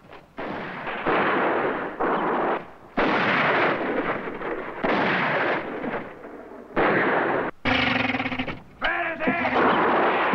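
Heavy, loud gunfire in a Mexican film, sustained automatic bursts aimed at an airplane, coming in several long roaring volleys separated by short gaps, with shouting voices in between.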